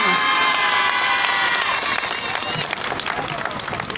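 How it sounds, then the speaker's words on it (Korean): Loud, dense applause from a large crowd at a Wednesday street protest in Korea fills the space, with some cheering mixed in, fading slightly toward the end. "큰 박수로 환영해 주시기 바랍니다."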